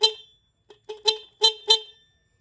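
A Honda XRM110 motorcycle horn, just repaired, sounds in a series of short nasal beeps: one near the start, then four more in quick succession, close and clear with silence between.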